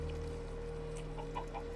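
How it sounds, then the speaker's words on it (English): A Minecraft chicken clucks a few short times in quick succession, fairly faint against a steady low hum of in-game ambience. "A chicken."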